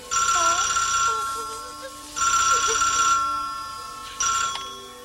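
An electronic telephone rings in three loud bursts, each about a second long and separated by short pauses, sounding close by, with faint background tones beneath.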